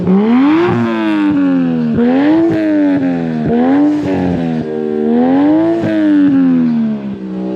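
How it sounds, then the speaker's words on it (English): A loud JZX100 Mark II car engine revving repeatedly, exhaust note rising and falling in several pulses up close, with no voices. "we needed somebody to pump the exhaust to see what it sounds like"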